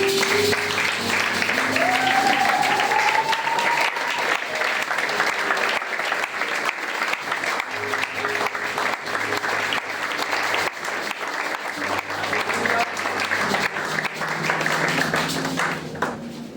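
A church congregation claps in sustained, lively applause for the whole stretch, filling the hall evenly with a bright hand-clapping texture and faint background voices.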